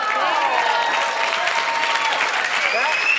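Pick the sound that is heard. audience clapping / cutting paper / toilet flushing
audience clapping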